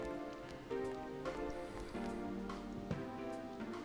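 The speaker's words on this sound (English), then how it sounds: "It started raining." Rain falling in the video game Persona 4 Golden, a soft patter beneath sustained, gentle tonal game music, fairly quiet overall with no talking.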